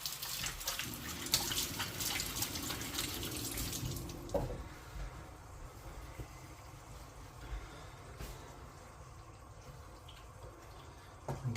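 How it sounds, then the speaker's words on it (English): A kitchen tap runs loudly for about four seconds while hands are washed under it. The flow then stops, leaving a faint room hush with a few small knocks and no talking. "Wash my hands."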